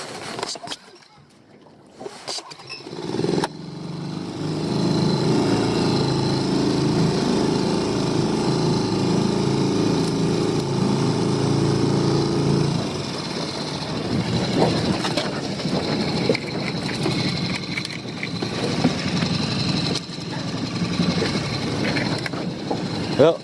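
A steady low dinghy outboard engine drone runs for several seconds near a reef, then gives way to water sloshing and faint movement; speech is likely mixed in.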